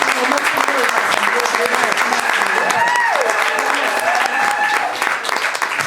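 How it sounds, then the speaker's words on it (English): A crowd keeps up a loud, steady round of applause at an evening event, with voices and cheers mixed into the clapping throughout. "A round of applause for just not too late."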